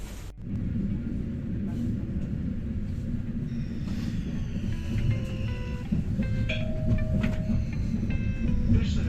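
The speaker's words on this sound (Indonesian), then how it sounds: "sekarang saya mau naik kereta dari Enschede ke Zwolle dulu" A train rumbles steadily along the rails between Enschede and Zwolle with a continuous low roar, punctuated by metallic squeals and clicks from the wheels, heard from inside a carriage.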